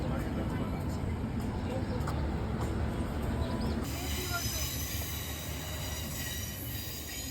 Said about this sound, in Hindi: ये थी वो ट्रेन, पर छोटी थी और ये थोड़ी स्लो ट्रेन है